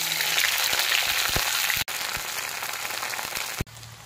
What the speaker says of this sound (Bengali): কড়া গরম করে সরিষার তেল দিয়ে ভেন্ডিটা দিয়ে দিয়ে লাল লাল করে